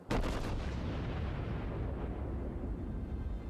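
Battleship main guns fire in World of Warships, the USS South Carolina in an early beta build: one loud, booming salvo right at the start, followed by a long rumbling decay that fills the rest of the moment with no talking.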